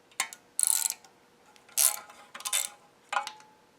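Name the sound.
ratchet loosening 10mm oil pan bolts on a Subaru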